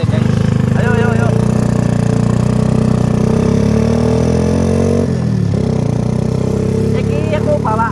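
A Honda Astra Grand motorcycle engine runs loud and close with a steady, buzzing drone whose pitch shifts slightly as it holds near idle and eases off the throttle.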